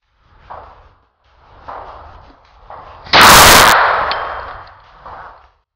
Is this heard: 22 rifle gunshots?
yes